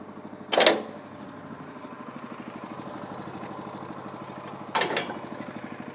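An Athena 850 lift machine's engine runs with a steady, fairly quiet low hum while the machine auto-levels, broken by two sharp mechanical knocks a few seconds apart.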